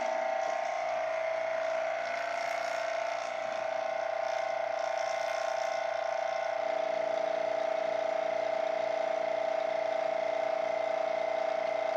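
A vacuum pump pulls vacuum on a Mercedes 560SL air conditioning system, a steady, droning motor hum with a high whine running continuously and evenly, close and unchanging throughout.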